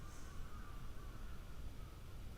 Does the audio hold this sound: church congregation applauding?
no